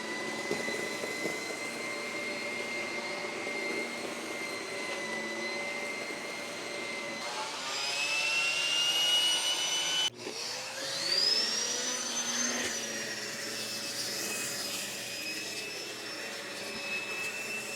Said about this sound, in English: will it run a turbo nozzle, an air-driven carpet attachment?